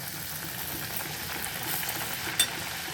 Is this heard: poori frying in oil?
yes